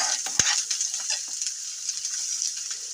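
Ingredients for parippu, a Kerala lentil curry, fry in a pan with a continuous close hissing sizzle, broken by a few light clicks of stirring.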